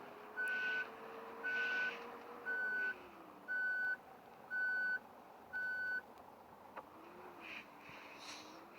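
Six evenly spaced electronic reversing beeps from a bus backing up in the Otobüs Simulator Ultimate game, loud and steady over a low engine hum, followed by quieter engine drone.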